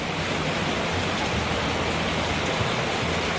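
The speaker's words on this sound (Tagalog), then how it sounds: "Maulan na Monday, umaga." Steady rain pours on a Monday morning, a dense, even hiss that stays constant throughout with no voices.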